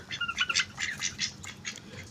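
Ducks at a farm pen let out in the morning quack and squawk in a busy cluster, with repeated nasal calls overlapping close by for a couple of seconds and no voices.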